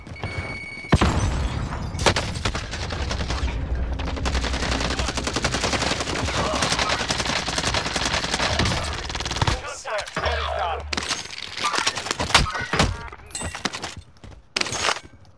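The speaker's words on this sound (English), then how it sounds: "I sat there and unloaded so many rounds of that guy." Call of Duty: Modern Warfare gunfire, with a long sustained burst of loud automatic fire followed by sharper, separate shots and short bursts, close and dense, with no talking over it.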